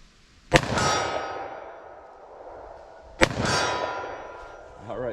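Two sharp .357 Magnum revolver shots from a 2-inch barrel firing Federal HST ammunition crack out a few seconds apart, each a loud blast trailed by a ringing echo outdoors.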